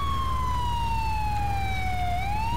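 Continuous wailing ambulance siren from an international ambulance mod in GTA IV, loud and close, its pitch sweeping slowly down then rising again.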